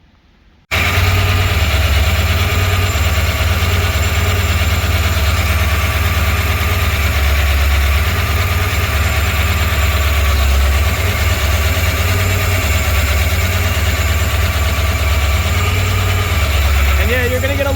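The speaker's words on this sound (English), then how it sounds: "I'm not gonna try to speak over the engine." A twin-turbo tuned car engine idles close by. A loud, steady, deep rumble starts abruptly after a moment of quiet and holds level with a slight uneven throb.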